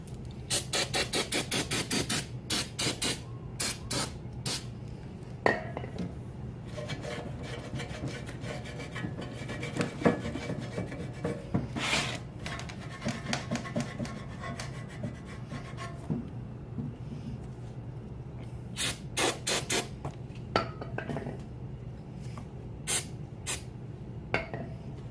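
The old oil pan from a 2006 Ford Fusion is scrubbed and scraped by hand, giving repeated rasping strokes in bursts, close and fairly quiet, with pauses between sessions.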